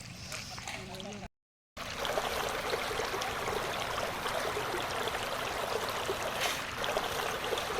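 Water spilling over a small weir spillway at Huay Nakhon Krai in Savannakhet, a steady broadband rush that runs continuously and loudly apart from one brief dropout near the start.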